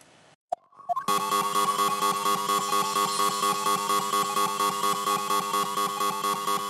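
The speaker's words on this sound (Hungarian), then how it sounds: "Ez egy biztonsági riasztó." A security alarm in Ace Attorney Trials and Tribulations sounds after a couple of brief clicks. It becomes a loud, sustained, harmonically rich electronic ringing that pulses steadily and continues to the end.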